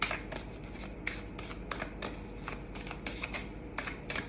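Playing cards riffle and snap in quick repeated bursts, fairly faint and close, with soft rustling between the shuffles.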